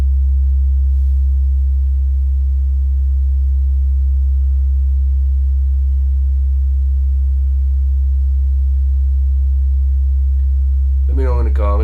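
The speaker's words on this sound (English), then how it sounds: "this 67 hertz sine wave" A 67 hertz sine wave test tone plays through a speaker, a loud, constant low hum holding steady throughout, with a brief burst of other sound at the very end.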